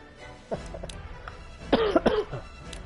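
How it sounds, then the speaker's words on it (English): A person getting over a cold coughs several times in quick, rough bursts close to the microphone, with a short throat-clearing cough first and no speech. "I'm probably still gonna cough a lot."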